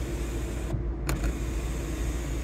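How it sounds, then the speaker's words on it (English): An electric sunroof on a 2011 Volvo S60 1.6D DRIVe R-Design slides open with a steady, broad motor whir heard close inside the cabin, briefly dipping and clicking midway before continuing evenly, with no voices. "The sunroof is here. So that goes all the way back like that."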